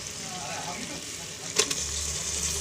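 Young goat meat fries in a marinated spiced masala with a soft, continuous sizzle, broken by a brief utensil clatter partway through.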